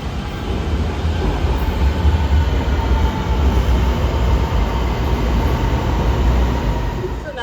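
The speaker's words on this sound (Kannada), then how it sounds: "ಸೊ ನಾವೀಗ ಮೆಟ್ರೋ ಹತ್ತಿದೀವಿ." A metro train in Malaysia heard from inside a women-only carriage, a steady loud rumble of wheels and motor with continuous rail hiss and no talking.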